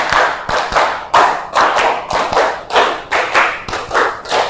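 A classroom of students claps in a rhythmic pattern, repeated loud group claps in quick groups of three, close and with no talking.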